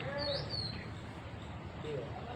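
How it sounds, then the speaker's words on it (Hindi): An Asian koel calls outdoors, a rising whistled note near the start and another toward the end, fairly faint over soft background hum. "कोयल बोल रही, कोयल"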